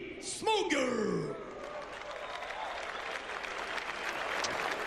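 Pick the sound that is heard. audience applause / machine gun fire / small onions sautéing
audience applause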